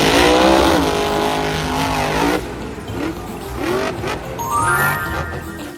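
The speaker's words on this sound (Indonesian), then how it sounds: "Ini dia, truk monster raksasa." Giant toy monster truck driving, played as a series of engine revs, skids and tire squeals from a car sound effect. The whining pitches rise and fall in several separate bursts and no one speaks.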